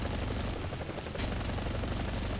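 A helicopter-mounted 20mm cannon firing in a video game: one loud, dense, unbroken burst of rapid shots with no pauses and no voices.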